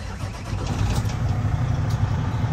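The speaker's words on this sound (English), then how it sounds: "We'll go ahead and hop out so that way you guys can hear the motor run a little bit." The motor of a 2024 Lonestar vehicle turns over and settles into a low, steady rumble nearby, a quiet running drone that holds for a couple of seconds.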